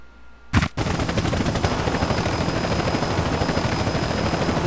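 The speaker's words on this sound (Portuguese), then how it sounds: "Ué, por que que é hélice?" After a sharp bang, a helicopter rotor in the video game GTA San Andreas, from a modded sound pack, starts thrumming in a fast, steady pulse that holds loud and continuous to the end.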